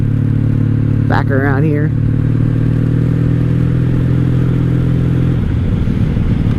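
A wrecked 1997 Honda Magna 750 VF750C cruiser motorcycle rumbles steadily at close range with a low droning engine note throughout, and someone speaks briefly over it near the start.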